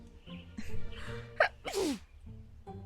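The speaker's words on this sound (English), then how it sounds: "Those sneezes." Several sneezes from a game character, a quick series of breathy bursts with one sharp squeaky peak, fairly close and clear, with no talk.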